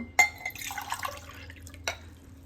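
Water from a glass is poured over washed rice in a pressure cooker pot, a close, splashing pour lasting about a second and a half between two sharp clinks, with no talking.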